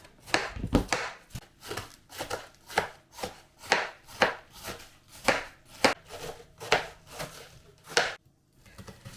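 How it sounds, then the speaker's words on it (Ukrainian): A knife chopping fresh cabbage on a wooden board, about fifteen evenly paced, crisp cuts close by with no talking. "В цьому рецепті я буду робити начинку із свіжої капусти. Наріжу капусту."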